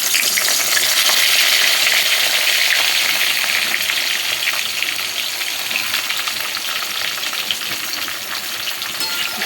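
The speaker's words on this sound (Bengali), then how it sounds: "এবার এই তেলেই আমি বেগুনটা ভেজে নেব।" Eggplant pieces fry in hot oil in a pan where lentil dumplings were just fried, giving a loud, steady, dense sizzle throughout that eases slightly toward the end.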